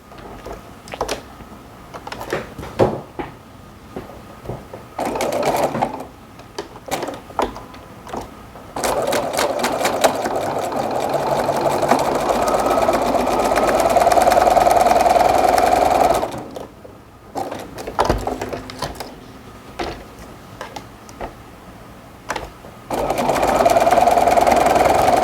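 A sewing machine stitches the side seams of a coat at a quarter-inch seam allowance, running in several long bursts of steady motor whir with short pauses and handling noises between them.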